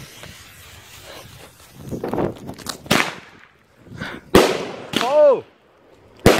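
Backyard fireworks set off in a row of sharp cracking pops, ranging from near to slightly distant. One launches with a whistling tone that rises and falls before the last crack, and faint voices sit between the bangs.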